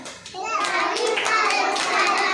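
Young anganwadi children clap their hands while singing a Gujarati rhyme together. Their rhythmic claps sit under the louder chorus of voices.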